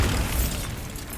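A Bombarda spell blast in Hogwarts Legacy, one loud, dense, booming burst that fills the whole moment and fades only slightly over a second.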